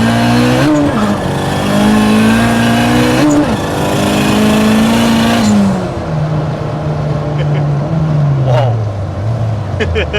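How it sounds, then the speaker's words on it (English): A turbocharged 1992 Honda Civic EG hatchback pulls hard in second gear, a loud close engine drone climbing in pitch, easing off and rising again before dropping away, with faint turbo whistle. "We do a little slight little pull. We'll do a second gear 40."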